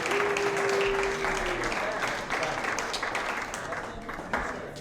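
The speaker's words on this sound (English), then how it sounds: "Let's hear it. A great round of applause," Steady applause from a variety show audience welcoming an adult chorus for the finale, a continuous wash of clapping with some voices and a brief tone mixed in.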